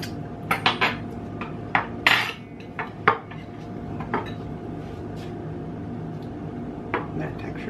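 A fork cuts into and taps against a plate holding an almond-chia seed cake, giving several sharp clinks and scrapes over the first few seconds, close and fairly loud, with a steady room hum beneath.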